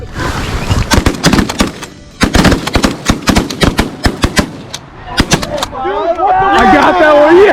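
Shotguns fire during a bird hunt with a large group of hunters, producing rapid, overlapping loud blasts in dense volleys with brief gaps. Excited voices shout over the end of the gunfire.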